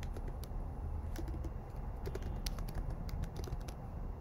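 Fingers tap rapidly on a computer keyboard at close range, irregular quick clicks over a low room hum.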